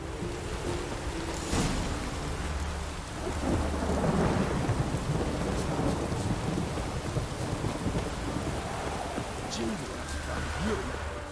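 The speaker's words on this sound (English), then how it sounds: "Let it rain." Rolling thunder over steady heavy rain in the video game The Witcher 3: Wild Hunt, with a sharp crack near the start and a low rumble swelling midway, continuous and fairly loud.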